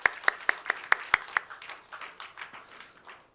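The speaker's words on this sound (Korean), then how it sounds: "우리 하나님 앞에 감사의 박수 올려드리도록 하겠습니다" A church congregation claps in thanksgiving, opening with a few sharp, evenly spaced claps close by that dissolve into a softer, scattered patter of many hands.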